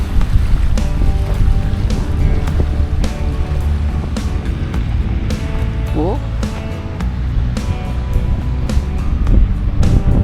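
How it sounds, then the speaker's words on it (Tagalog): Choppy sea waves stirred by strong wind at Manila Bay's Dolomite Beach, a loud, constant wash of water and wind rumble with sharp splashes, heard under someone talking close by. "medyo maalon dahil sa malakas yung hangin, ito pa rin yung ating tubig dagat dito"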